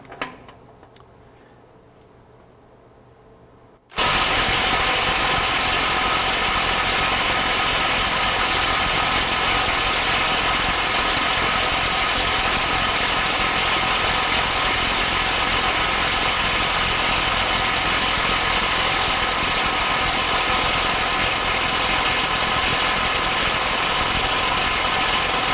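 A DeWalt DCF891 mid-torque impact wrench hammers on a bolt torqued to 1000 foot-pounds, starting abruptly after a few quiet seconds and then running as a loud, continuous rapid rattle for over twenty seconds, alone and up close.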